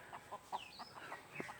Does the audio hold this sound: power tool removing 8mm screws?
no